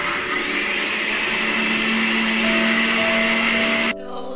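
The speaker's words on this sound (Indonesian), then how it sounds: "Dan menggunakan blender." A kitchen blender grinds white spice paste in a loud steady whir that holds its pitch for several seconds before cutting off abruptly near the end.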